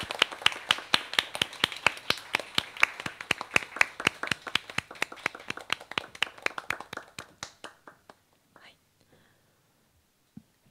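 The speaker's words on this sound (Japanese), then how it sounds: "盛大な拍手でお見送りください" A seminar audience gives a farewell round of applause: fast, crisp clapping that is strong at first, then thins over several seconds and dies out into scattered last claps.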